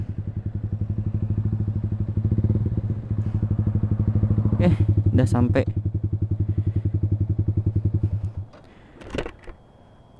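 Motorcycle engine idling close by in Indonesia with a steady, rapid thumping pulse for about eight seconds before it shuts off, with brief speech over the engine and a short clatter afterward.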